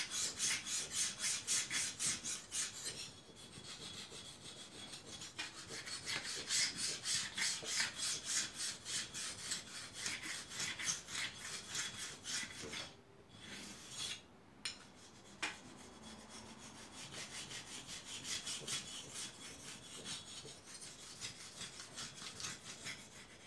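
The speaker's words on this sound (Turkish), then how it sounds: "Normal bileme işlemimizi yapacağız." An old knife is drawn over an oil stone in a steady run of close, gritty scraping strokes, broken by a brief pause partway through, with no voices.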